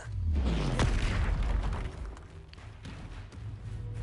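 A Confringo fire spell detonates in Hogwarts Legacy with a loud booming burst near the start, followed by a rumbling, crackling tail that gradually settles, with further thuds and game effects after.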